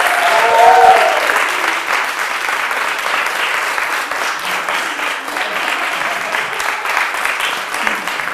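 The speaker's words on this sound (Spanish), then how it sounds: "Un fuerte aplauso para ellos." Steady, loud applause from a talent-show audience for a dance group from a Badalona dance school, a dense wash of clapping that holds evenly for the whole stretch with no voices over it.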